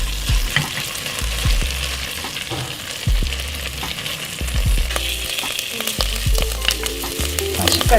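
Seaweed frying in perilla oil in a pot gives a steady crackling sizzle, punctuated by repeated low knocks and scrapes of stirring at a close distance.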